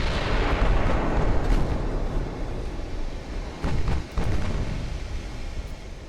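Naval gunfire and shell hits in the warship game Ultimate Admiral: Dreadnoughts, with heavy booming blasts and rumbling impacts rolling one into another, loud and close, with a sharper burst near the end and no talking.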